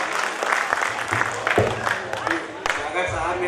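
A mushaira audience in Bhiwandi applauds to welcome a poet from Malegaon: scattered, uneven clapping from a gathered crowd, with voices talking over it throughout the short burst.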